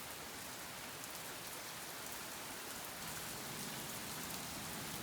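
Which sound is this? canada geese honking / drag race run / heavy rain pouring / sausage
heavy rain pouring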